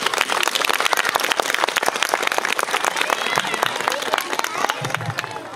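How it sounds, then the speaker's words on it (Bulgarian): Dense, steady applause from a seated audience fills the hall at a kindergarten pumpkin festival, loud and continuous, with a voice briefly audible underneath near the end. "Аплодисменти, моля!"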